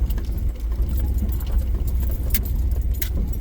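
Keys jangling inside a car on the road, a light metallic rattle running on and off over the steady low rumble of the engine and road noise.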